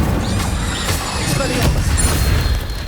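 A fire spell, Incendio, cast in the Hogwarts Legacy video game, a loud burst of crackling impacts and booms over constant battle noise and game music, with a voice shouting the spell name.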